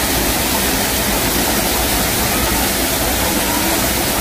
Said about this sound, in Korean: 인공 폭포인데,